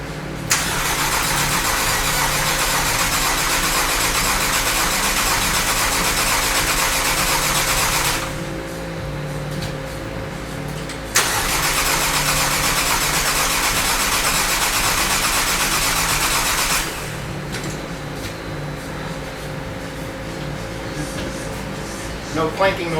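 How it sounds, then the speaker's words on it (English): A 2009 Volkswagen CC 2.0 TSI engine with a failed cam chain tensioner cranks loudly and steadily for two long spells with a short pause between, followed by a quieter rumble. "cranking noises. It sounds like it's cranking okay."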